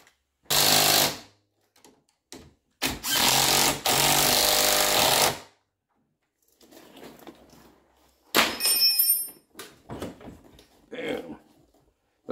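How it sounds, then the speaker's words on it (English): Impact wrench driving home a bolt on a Club Car golf cart front suspension, firing in several loud short bursts of hammering with quiet gaps between them. "so we're gonna send it home with the impact"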